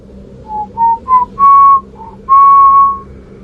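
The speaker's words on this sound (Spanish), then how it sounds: "Y fue entonces cuando escuchamos un silbido." Someone whistles a short eerie tune, with several clear rising notes, two of them held long, loud and close against a quiet background.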